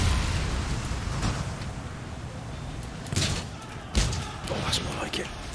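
Cannon volley from the naval-era strategy game Empire Total War, two deep booming thuds a second apart rising out of a steady battle din, with someone talking throughout.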